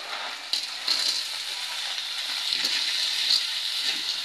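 Liquid is poured into a hot cooking pan, a soft steady hiss and sizzle with a few brief spattering bursts, fairly faint and close.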